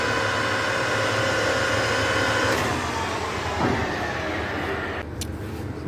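Colchester Triumph 2000 centre lathe running forwards at 1500 RPM, a steady close mechanical drone with tonal whine and hum, shifting slightly partway through, alone without talk.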